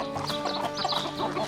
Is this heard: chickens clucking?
yes